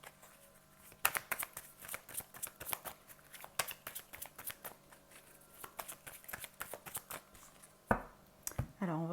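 Oracle cards shuffled by hand during a tarot-style love reading, giving a steady run of close, crisp riffling flicks and taps, with a few louder knocks near the end.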